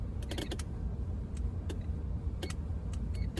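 Car starter failing to engage as the key is turned, giving a few faint, brief clicks and creaks over a steady low hum, no cranking or engine catch.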